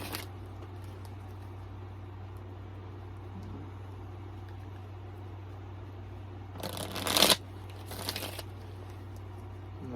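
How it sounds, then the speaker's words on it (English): A deck of tarot cards is shuffled in two quick riffling bursts near the end, close and crisp, over a steady low hum. "Let me go ahead and give this a few more shuffles."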